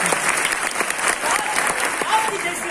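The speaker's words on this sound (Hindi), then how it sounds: "महाराज के लिए एक बार जोरदार ताली।" An outdoor audience at a Navi Mumbai road safety street play breaks into loud, steady hand clapping, dense and continuous for a few seconds with a few voices mixed in.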